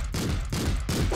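Three rapid pistol shots fired in the top-down action game Streets of Rogue, each a loud, sharp burst close up, evenly spaced across a second with no talk over them.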